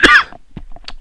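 A single sharp cough bursts out loud and close, followed by a few faint throat sounds and short breaths during a tabletop card game match at a store championship.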